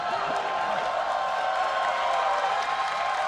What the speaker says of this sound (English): And an applause.